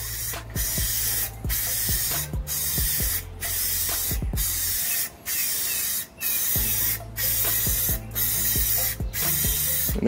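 Spray paint being applied to a wooden shadow box in smooth, overlapping passes: a loud, steady hiss that runs in bursts and cuts out briefly between strokes, with a low hum underneath.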